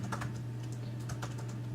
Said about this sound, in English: I'm gonna try typing in individual.